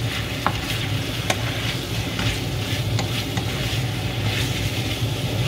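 Beef tripe going into a pot of callos, with steady stirring and sizzling frying noise throughout, a couple of brief sharp clinks near the start, fairly loud and close with no talking.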